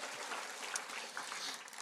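Congregation applause in a church service: steady, dense clapping from many hands that fills the whole moment at an even, moderate level, without pauses or clear talk over it.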